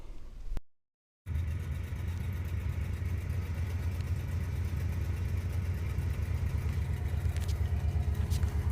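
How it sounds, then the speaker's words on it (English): A 1967 Ford LTD's engine idles steadily after a brief cutout, a close, even low rumble with a regular pulsing beat and no voices. "2 pumps on the accelerator pedal, hit the switch, and it fired right up"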